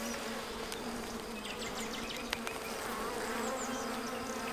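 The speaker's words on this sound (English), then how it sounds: "Lots of bees." Honey bees in an opened hive give off a close, steady, dense buzz with a constant low hum that never lets up, heard alone without voices.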